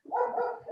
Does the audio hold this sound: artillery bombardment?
no